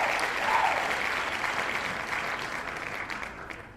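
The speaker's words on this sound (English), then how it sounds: "Stop applauding." A crowd applauding steadily, a dense wash of clapping that gradually thins and fades toward the end.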